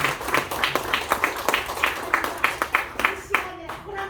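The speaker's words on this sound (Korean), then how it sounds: "우리 열정적인 강의 해주신 이사장님께 다시 한번 큰 박수 부탁드리겠습니다" An audience at a Korean scholarship foundation event applauds after a lecture, with scattered hand claps in an uneven rhythm mixed with talk and crowd murmur, nearby and moderately loud.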